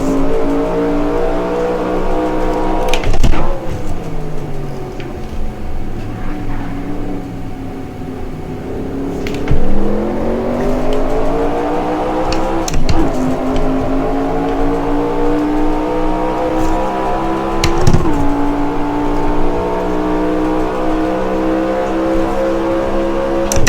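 A 1970 stock car at Riverside in the NASCAR Racing 2003 video game sings a loud, buzzing engine note that climbs, then drops sharply in several braking downshifts before revving up again, with no talking.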